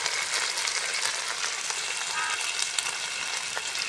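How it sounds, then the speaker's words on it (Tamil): Ginger garlic paste sizzles and fries steadily in a pan of oil for mutton biryani cooked outdoors, a bright continuous hiss with light stirring scrapes and no talk. "இப்போ இஞ்சி பூண்டு பேஸ்ட் நூறு கிராம் எடுத்திருக்கேன் அது சேர்த்துக்கிறேன்"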